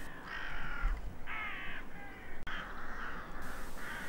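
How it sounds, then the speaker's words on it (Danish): Several crows cawing over a field near decoys, repeated harsh calls in uneven bursts at moderate distance, with one sharp click partway through. "før de første krager bliver interesseret"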